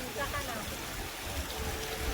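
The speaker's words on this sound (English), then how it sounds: "There goes the waterfall." Water pours from a newly built waterfall at a beach house under construction, a faint, continuous rushing splash heard briefly, with voices nearby.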